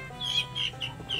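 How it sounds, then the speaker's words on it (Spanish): A live chicken being carried in as a gift gives a few short, high clucks and chirps spaced irregularly over a low, steady background hum. "Ay, el pollito, aquí le traigo el pollito."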